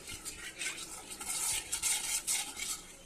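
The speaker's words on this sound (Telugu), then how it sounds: "కారం అయితే వేసుకొని కొంచెం ఆయిల్లోని ఇదంతా కలుపుకుంటానండి" Chilli powder being stirred into oil for an okra fry, with a spoon scraping and clinking against the pan in an uneven rhythm, fairly close and moderately loud, with no talking.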